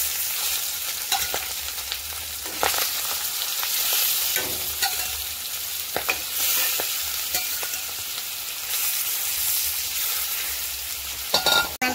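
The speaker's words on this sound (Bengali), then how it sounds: "বাকি মাছগুলো দিয়ে দিলাম গরম তেলে, দিয়ে এগুলোকে একটু ভেজে নেবো" Fish frying in hot oil in a pan, a loud continuous sizzle with occasional stirring scrapes and crackling bursts, no talking.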